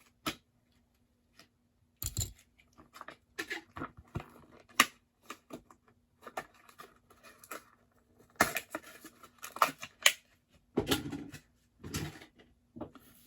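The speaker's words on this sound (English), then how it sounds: "We're going to rip it right open." Dark green Johnny Lightning 1984 Nissan 300ZX toy car being torn out of its blister package, with scattered close crinkling, tearing and plastic clicks in short bursts separated by quiet gaps.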